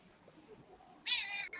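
A pet cat gives one loud, drawn-out meow close by, ending with a short trailing mew, after a stretch of quiet room noise.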